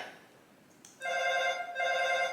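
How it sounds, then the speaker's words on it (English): An electronic doorbell chime rings twice in a steady, bright tone, clear and close over a quiet background hiss. "my doorbell's ringing"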